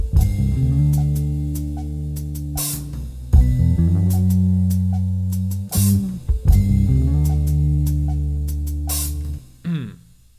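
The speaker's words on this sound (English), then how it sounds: "And all the pieces so far sound like this, with the drums, the guitar, and the bass." Soulful hip-hop beat made for a rap track, with drums, guitar and bass: punchy kicks and sharp snare hits over warm sustained bass and guitar chords, looping loudly for about ten seconds without any voices.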